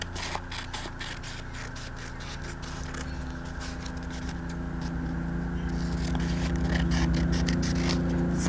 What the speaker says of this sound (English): Sorry about the loud noise, but they're plowing or snow blowing again